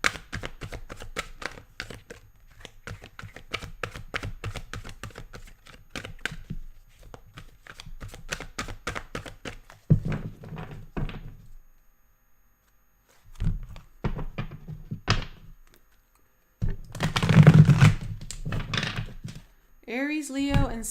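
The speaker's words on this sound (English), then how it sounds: "let's shuffle up the main spread" Tarot cards shuffled by hand in a live reading, giving soft papery riffles and thunks in bursts between pauses, the loudest flurry near the end, with no talk over them.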